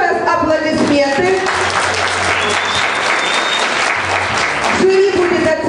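An audience at a KVN-style youth event applauds, a dense wash of clapping that swells and fades, with a host's voice speaking over it.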